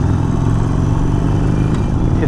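A Harley-Davidson Iron 883 motorcycle engine holds a steady, loud low rumble throughout, with someone talking over the drone.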